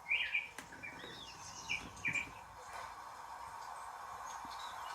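Small songbirds chirp and tweet in short bursts from a video playing indoors, several bright calls clustered in the first two seconds and again near the middle, fairly faint over a low steady room hum.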